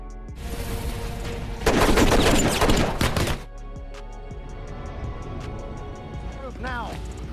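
Film gunfight: a dense, loud burst of rapid gunfire and impacts lasts a couple of seconds over a steady rumbling score, then gives way to music and scattered effects with a brief whooshing swell near the end.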